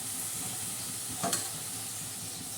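Spinach and dill greens cooking together in a pan, a soft continuous sizzle with a single brief scrape of stirring midway, close and steady, no voices.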